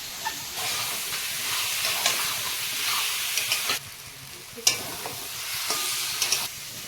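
Potatoes cooking in a pan with a ground paste of mustard, cashew and poppy seeds, a soft steady frying hiss broken by stirring scrapes and spoon knocks, with a short pause midway.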